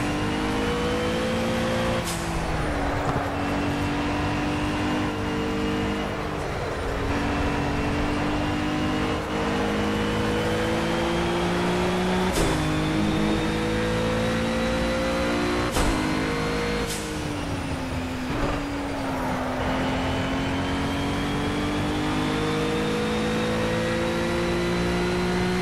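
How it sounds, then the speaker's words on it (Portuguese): Cadillac ATS-V.R GT3 race car in Project CARS at Road America, its engine droning steadily and rising in pitch through repeated gear changes, loud and continuous with no talking. "Você tem que ir acelerando devagarzinho para o carro pegar velocidade."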